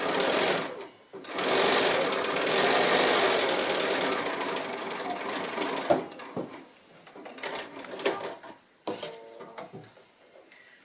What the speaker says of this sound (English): I'm machining it down on the front